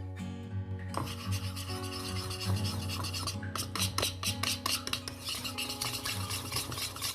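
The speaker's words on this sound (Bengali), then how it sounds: "এবার সব মিশ্রণটাকে আমি ভালো করে আরেকবার ফাইনালি ফেটিয়ে নিচ্ছি।" A batter of flour and cornflour gets whisked in a bowl, producing continuous rhythmic scraping and rubbing that quickens into rapid clinking strokes halfway through, with no talking.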